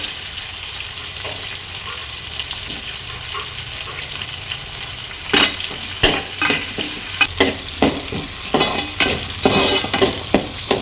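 A whole large onion drops into hot oil for a North Indian onion, chicken and potato gravy, sizzling steadily while a spoon stirs it with repeated scraping clatters; close and fairly loud, no talk.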